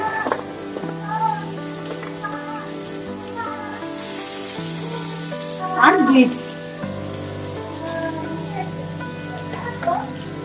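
Potatoes and carrots fry in a pan for a vegetarian mixed-vegetable dish, giving a steady, moderate sizzle with a brief louder burst midway, heard beneath background music.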